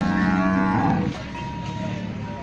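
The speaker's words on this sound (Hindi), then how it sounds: "ये गाय है" A Sahiwal cross cow at a livestock market gives one long, loud, close moo that lasts about a second, followed by quieter background noise of the market.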